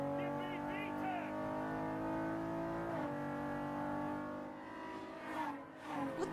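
A Honda Odyssey minivan engine in a video game revs steadily with rising harmonic tones, pitch shifting as it climbs toward VTEC, while someone talks and exclaims over it near the end.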